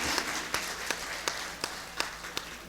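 Audience clapping at a mushaira and kavi sammelan poetry recital, a sparse run of about seven separate claps at an even pace, fairly soft and distant, heard alone with no talk.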